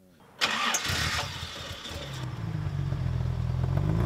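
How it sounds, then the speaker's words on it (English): A 1969 Jaguar engine with double overhead cams and triple SU carburettors starts up and revs freely, a sharp catch followed by a steady, loud, rising engine roar held close by. "for even an engine of its size, they do love to rev,"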